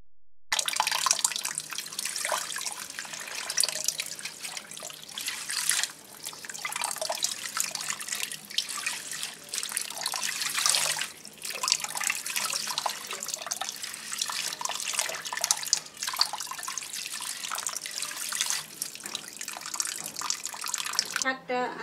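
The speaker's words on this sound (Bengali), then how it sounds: "শাকটা ধুয়ে নিছি" Kalmi greens (water spinach) rinsed under a running kitchen tap, a continuous close splashing stream that shifts and briefly breaks as the leaves are moved through the water.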